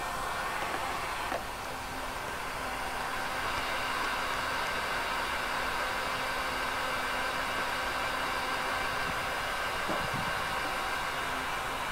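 A heat gun blows steadily onto a short length of 3-inch PVC pipe being heated to flatten into sheet, giving a continuous airy hiss with a faint hum, close and unbroken, with a couple of soft handling knocks.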